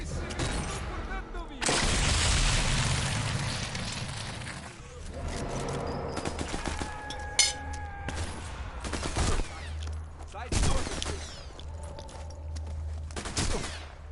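Enemy gunfire in Sniper Elite 4, with loud bursts of rifle and machine-gun shots and rapid sharp cracks repeating throughout, along with scattered impacts and a person talking over some of it.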